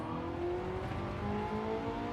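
Ferrari 360 engine in a racing video game, a steady, moderately quiet drone with rising harmonic pitch as it revs, no talking over it.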